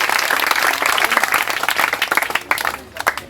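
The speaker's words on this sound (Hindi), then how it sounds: "जोरदार ताली बजाइए।" Loud, dense applause from a group at an outdoor nature quiz competition, filling the clip with steady clapping that thins slightly toward the end.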